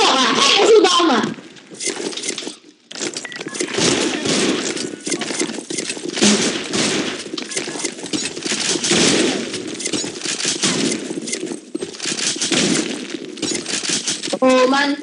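Rapid gunfire bursts from the BlackShot online shooter game, dense crackling shots running throughout while players talk loudly over them.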